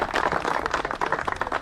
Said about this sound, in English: So, round of applause perhaps?